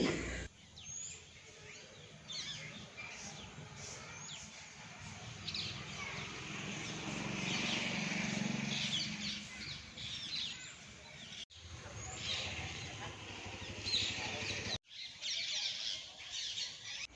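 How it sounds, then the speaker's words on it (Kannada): Birds chirp and call outdoors around a house, a faint, scattered chorus of tweets and occasional squawks that continues for a long stretch over soft background noise. "ಪಕ್ಷಿಗಳೆಲ್ಲ ಸೌಂಡ್ ಮಾಡಿದ್ದು ಕೇಳಿಸ್ಕೊಂಡು"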